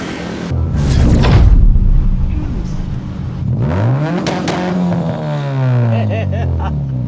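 Mazda RX-7 FD revving loud and close: a sharp burst of throttle early on, a brief dip, then renewed revs that climb and fall several times in a raspy, rising whine.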